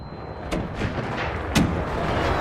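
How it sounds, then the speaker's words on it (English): Gunfire and blasts in the ARC Raiders video game, including a flashbang, with two sharp bursts standing out over a continuous rumbling background of game noise. "That flashbang's gonna hurt."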